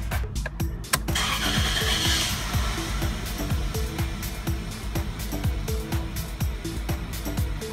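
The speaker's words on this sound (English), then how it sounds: "Okay, so I'm gonna start the car for the first time." A high-mileage 1999 Toyota Corolla engine cranks and catches, then settles into a steady, smooth idle that hums continuously at moderate volume.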